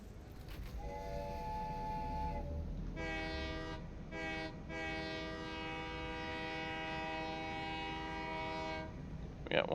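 A train horn toots repeatedly in a video game, a short tone first, then several longer sustained blasts with brief gaps, heard alone over low rumbling game noise.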